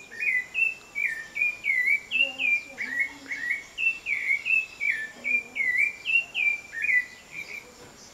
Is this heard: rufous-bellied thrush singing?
yes